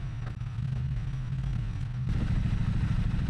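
Motorcycle on a touring ride in Hokkaido, a continuous close low engine drone with wind rush, the engine note rising in the second half, no talk.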